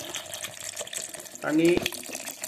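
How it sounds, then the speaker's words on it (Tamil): Water is poured briefly onto fruit juice while making a fruit cocktail, a short splashing gush lasting under a second amid quiet background sound and some talking. "அந்த ஜூஸ் நல்லா முழுகிற வரைக்கும் தண்ணி எடுத்துக்கோங்க"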